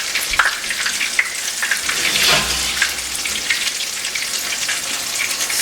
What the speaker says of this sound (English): turn our oven off while I finish frying up these potato cakes